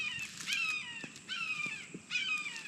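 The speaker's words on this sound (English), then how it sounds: "Listening to the birds." Crow-like birds caw several times at a river bluff campsite in Florida's Green Swamp Wilderness Preserve, faint and somewhat distant in an otherwise quiet setting.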